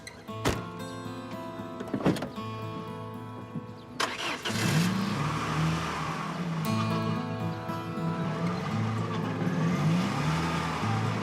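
A wedding car starts up close by, with clicks and a power-window whine first, then the engine cranks and catches into a steady, throaty idle that runs on to the end, with no voices.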